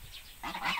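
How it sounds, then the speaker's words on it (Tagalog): Geese guarding a yard of ducks on a hot day, a brief burst of nasal honking calls growing louder toward the end, close by. "Ayan yung mga ganso natin."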